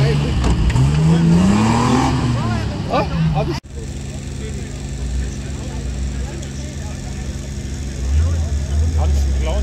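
Car engine at a rally-style event revving and accelerating, heard close and loud, with a rising engine note in the first few seconds before an abrupt cut to steadier engine noise; people talk over it.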